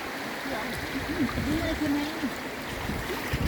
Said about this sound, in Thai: ดึงให้น้ำไหล